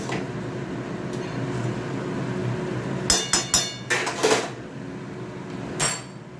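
A lid goes onto a pan of cooking pumpkin greens with chana dal paste in a quick cluster of metallic clanks and clinks, then one more knock later. A quiet steady hum of the kitchen sits beneath.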